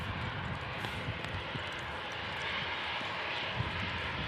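A Lufthansa airliner clears the runway, its jet engines a steady, faint broadband roar heard from a distance with no voices.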